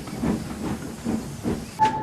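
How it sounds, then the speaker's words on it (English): Steam locomotive hissing as it shunts wagons in fog at the docks, a steady rhythmic chuffing hiss with a short whistle-like tone at the end, fairly loud and close with no voices. "That night, it grew foggy again as Douglas shunted his train."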